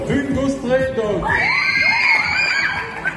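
A convention audience cheers and whoops for second-place winners, a rising swell of excited shouts and high-pitched yells near the mic, filling the short moment.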